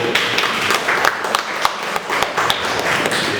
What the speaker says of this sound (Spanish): Palmas para Claudio, por favor